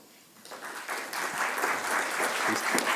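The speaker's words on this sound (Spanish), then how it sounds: "saludarlo con un fuerte aplauso" Warm applause from a seminar audience on digital commerce, rising after a half-second and holding steady as a dense, sustained clatter of clapping hands with no talk over it.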